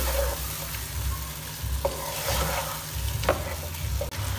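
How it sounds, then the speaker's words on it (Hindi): Mutton pieces frying with garlic-ginger paste in a pan give a steady, close sizzle, with occasional scraping stirs and no talking. "सबसे पहले हम 2 से 3 मिनट अच्छी तरह से गोश्त की कर लेंगे भुनाई"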